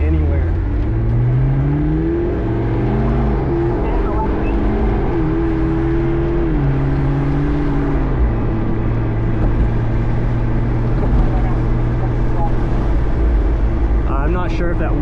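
A rebuilt McLaren sports car drives and accelerates, its engine droning steadily and rising and falling in pitch as it pulls through gears, loud and close throughout.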